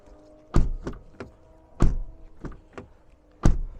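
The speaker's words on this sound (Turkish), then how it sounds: "Kapı sesimiz bu şekilde arkadaşlar." A 2017 Renault Megane 4 1.5 dCi's car door thuds shut three times with solid, heavy closes, each followed by lighter clicks and taps in between.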